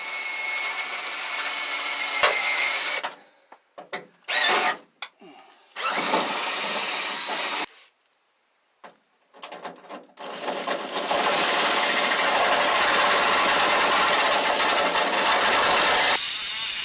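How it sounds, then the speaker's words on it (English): Power tool work on Ford Transit van sheet metal: a high-pitched drill whirring in bursts with pauses, then a long continuous harsh buzzing jigsaw cut, loud and close. "I used a small drill bit to begin to create a hole large enough to get the metal jigsaw blade in."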